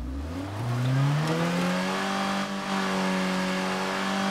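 A car engine revs up and holds a steady drone in the survival video game State of Decay 2, the pitch climbing over the first second and then settling into a sustained, fairly loud hum.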